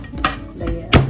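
Three sharp knocks from crushing garlic for a home-cooked pinakbet, each a blunt thud of a blade or tool hitting a cutting board, the last one loudest, close by with nothing else sounding.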